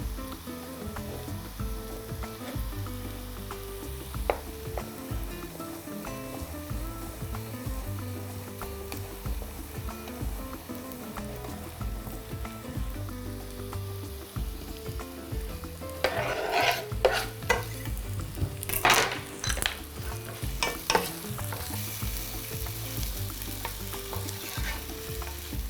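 Sticks of sorrel sizzle in a pan with frying onion, a steady hiss broken by repeated stirring and scraping that grows busier and louder partway through, with no one talking.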